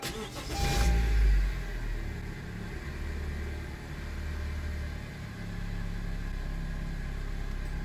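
A Honda HR-V engine idles just after starting, a brief louder burst at the start settling into a steady, fairly quiet hum that continues alone.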